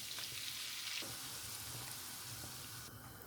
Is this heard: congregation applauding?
no